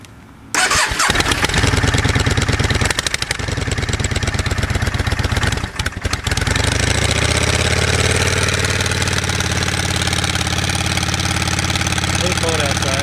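A 1998 Yamaha V-Star 650 motorcycle with a drilled stock exhaust cranks and fires up, then settles into a loud, steady, lumpy idle close by, with no talking.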